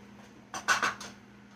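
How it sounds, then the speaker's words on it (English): A spoon stirs blackberries with pie mix in a bowl, making a brief cluster of three or four close scraping clinks against the dish amid a quiet kitchen hum. "We're gonna mix this together."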